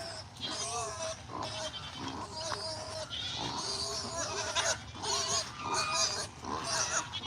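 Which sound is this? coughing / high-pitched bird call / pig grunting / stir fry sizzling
pig grunting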